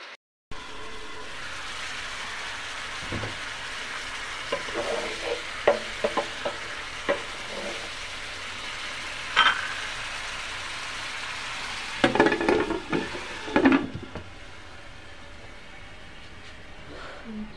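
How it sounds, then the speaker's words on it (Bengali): Spice paste frying with fish and papaya in a pan, a soft steady sizzle broken by scattered spatula scrapes and clatters, with louder bursts of stirring near the end. "মাছটা রান্না করবো, তো মশলা কষাচ্ছি, দিয়ে দিলাম।"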